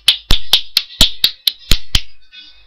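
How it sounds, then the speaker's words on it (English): About nine sharp, evenly spaced claps ring out in a quick series in the video game Hitman: Blood Money, crisp and close, then fade into silence. "Applause. Just applause."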